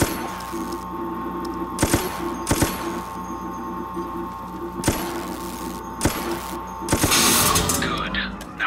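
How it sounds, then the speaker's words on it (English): Gunfire aimed at servers in Resident Evil: Operation Raccoon City, with sharp cracks and bursts spaced every second or so over a humming ambient background, ending in a louder, longer blast. "Concentrate weapons fire on those servers."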